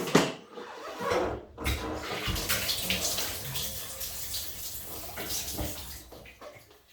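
Running water splashes steadily for several seconds as a face is rinsed after a shave with a Feather Artist Club SS shavette and Hoffman's Phantom 309 soap, broken by brief pauses and bursts of splashing, close and alone.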